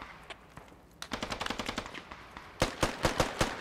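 Gunfire in the military shooter game Squad, with a sparse early shot followed by two clusters of rapid, sharp cracks, the second louder and closer. No talking.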